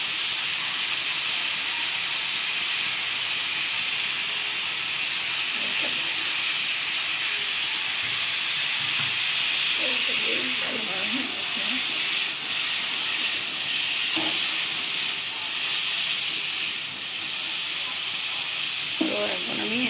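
Potatoes frying in a pan with a little salt, a steady close hiss and sizzle running throughout with faint stirring sounds.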